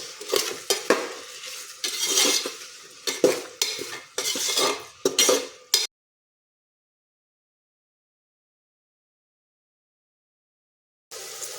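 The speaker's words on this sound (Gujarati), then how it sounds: "બધું જ મિક્સ કરી લઈશું અને બધા જ વેજીટેબલ આપણે સરસ અહીંયા સાતળી લઈશું" Vegetables being stirred and sautéed in a pan for vegetable masala khichdi, a run of clattering spoon-on-pan strokes and light sizzle, then a stretch of silence before a short return of sound.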